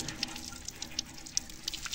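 Water from a village pipe tap near a school splashing into a basin, heard as a faint splashy flow with small irregular drips and plops, fairly quiet and brief.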